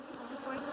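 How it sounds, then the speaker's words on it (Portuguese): Honeybees buzz close by as they are put back into a hive box after the queen was located, a continuous, fairly loud droning hum with no talking over it. "Tô voltando as abelhas pra caixa, dona Lúcia."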